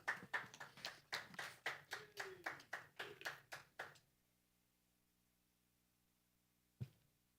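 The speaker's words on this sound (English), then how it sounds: "I heard 2 people clapping" A few people clap faintly in a room after a speaker's introduction, a quick, even run of about a dozen claps that stops abruptly, followed by silence and one lone tap.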